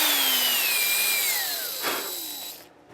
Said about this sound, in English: you pre-drill